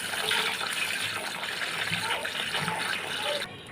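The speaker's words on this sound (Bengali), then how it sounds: "এখন ভালো করে ধুয়ে নেব।" Chopped Malancha greens being washed in water, a steady close splashing and running-water wash that ends abruptly near the close, with no talk.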